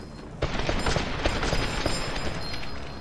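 Sustained gunfire in the video game Fallout: New Vegas, a loud burst of overlapping shots and automatic fire starting abruptly and continuing densely throughout, aimed at the player.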